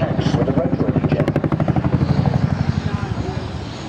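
A Chinook twin-rotor helicopter performs a flying display at Duxford Airshow, its loud rhythmic blade thudding close and powerful, with a commentator talking over the top.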